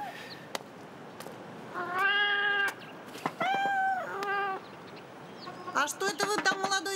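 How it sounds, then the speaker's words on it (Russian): A cat meows several times in a row, with drawn-out, clear calls set in an indoor doorway scene, followed by a burst of rapid, higher chirping cries near the end. "Ой, какая красивая кошечка у вас."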